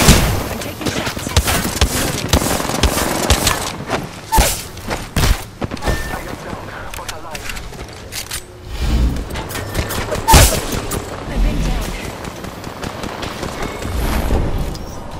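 Gunfire in Apex Legends, with sharp shots, booms and thuds arriving in irregular bursts amid whooshes and crashes, loud and close, with stretches of quieter game noise between volleys.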